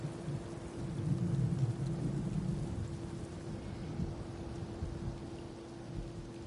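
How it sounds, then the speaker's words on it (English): A steady wash of rain and rumbling thunder from a lightning storm in the Elder Scrolls Online video game, with a broad roll swelling in the first seconds and then easing into a continuous storm hiss. "That's an explosion from lightning."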